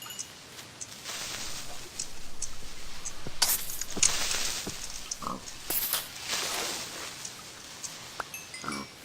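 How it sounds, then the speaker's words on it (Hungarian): A pig oinks and grunts in the video game Minecraft, several short snorting calls scattered over a soft background of game ambience, moderately close and fairly quiet. "Disznó."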